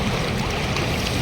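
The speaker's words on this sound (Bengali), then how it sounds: "এই জায়গায় কিন্তু প্রচণ্ড স্রোত, এত স্রোত এখানে দাঁড়ানো যায় না" The strong current of the Ganges at Haridwar rushes in a dense, loud, continuous roar of churning water, close by and very brief, with no voice over it.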